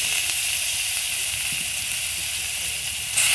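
Chopped onion goes into hot oil in a pan during home cooking of a dried-fish dish, giving a steady, bright, close sizzle that holds evenly throughout.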